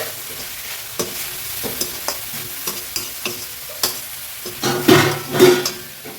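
A spoon stirs and scrapes through a pan of pepper, tomato and spinach stir-fry, with a series of separate clinks and scrapes over a soft sizzle that grows louder and busier near the end.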